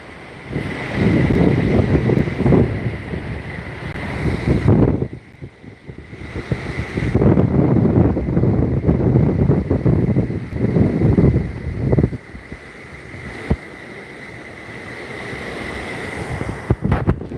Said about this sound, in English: The wind's blowing by bad, so that's why you gotta make sure you watch your step.